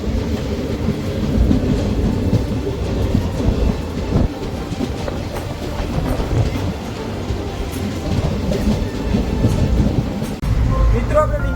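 A passenger train runs steadily, heard from inside the carriage, with a loud, continuous low rumble and rattle that stays dense throughout, and a brief dip near the end.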